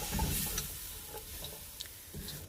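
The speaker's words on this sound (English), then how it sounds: "I'm just going to quickly saute." Meat and vegetables for pancit canton sautéing in a pan, a faint soft sizzle with a few light scrapes and clicks, quiet and close, with no voices.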